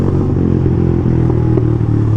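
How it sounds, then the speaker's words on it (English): A Yamaha MT-15 motorcycle's exhaust burbles close and loud at a steady rumble, with a few faint crackling pops flickering through the engine note. "There's also a lot of cracks and pops in this bike,"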